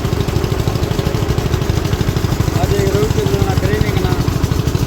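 A diesel generator runs on a farm with a steady, loud, close throbbing chug that holds an even rhythm throughout, with a few faint higher chirps over it.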